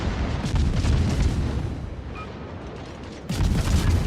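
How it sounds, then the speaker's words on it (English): Battleship guns firing in a naval video game give heavy rumbling booms, with a sustained roar of blasts, a brief lull, then another loud low burst. "Oh yeah, Greenie fires. Rounds going in."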